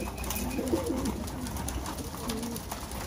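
Racing pigeons coo softly in low, bubbling phrases over steady background noise, with a couple of murmuring bursts close by and no speech.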